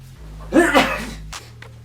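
A single short sneeze bursts out close by during a toy review of Transformers figures, over a steady low electrical hum.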